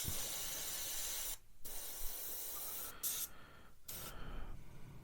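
Steady hiss of an airbrush spraying up close on a scale model truck, interrupted by a few brief pauses, soft and continuous otherwise.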